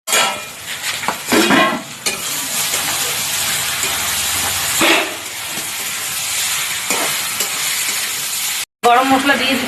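Goat tripe curry with potatoes sizzles and steams in a pot, a constant hiss with occasional stirring scrapes and clanks of utensils, cut by a brief gap near the end.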